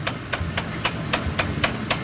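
Repeated tapping on a bowling lane pinsetter mechanism: about eight sharp, evenly spaced taps over a low mechanical rumble, fairly quiet.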